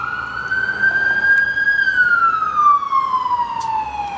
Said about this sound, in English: Of course, there's an ambulance.